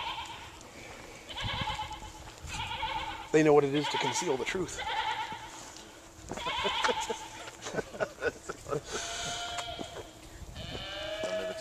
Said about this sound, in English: These are presidential goats.